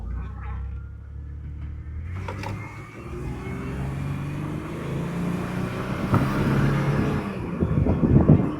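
A 2003 Chevy Blazer engine revs up after a transmission kickdown, its pitch climbing steadily and growing louder over the engine's continuous drone.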